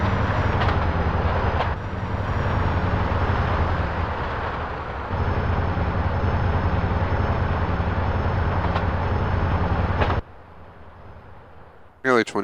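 Train rumbling steadily along its track in the game GTA San Andreas, a continuous loud rolling drone with a repeating clack, dropping away abruptly near the end before a brief burst, and speech mixed in.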